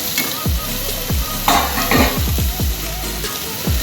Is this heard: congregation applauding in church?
no